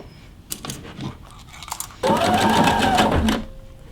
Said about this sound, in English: Take a couple of stitches, make sure you back stitch.